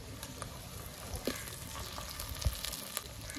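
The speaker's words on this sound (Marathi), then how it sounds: "कांदा आपला चांगला परतून झालाय." Chopped onion sizzling and frying in a pan for a big prawn curry, a steady close crackle with a few brief stirring clicks and no talking.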